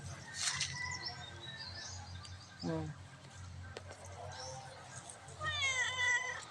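A cat meows several times outdoors along a roadside with flowers, the calls fairly near and fairly loud, with faint bird chirps and a voice talking in the background.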